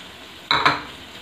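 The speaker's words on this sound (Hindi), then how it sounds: "अच्छी तरह से इसको मिक्स कर लेते हैं।" Aloo keema with dried fenugreek, thick-cut green chillies and fresh coriander being stirred in a pan, two quick metallic scrapes and clinks of a spoon over a faint sizzle.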